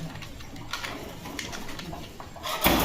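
Male German Beauty pigeon cooing in a breeder's loft, a few soft low coos repeated over a steady background, with a louder noisy burst near the end.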